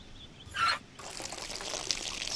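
Water pouring in the Off The Record 3: Art Of Deception video game, a short splashing burst followed by a steady trickling flow that continues to the end.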